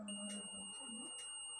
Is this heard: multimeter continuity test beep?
yes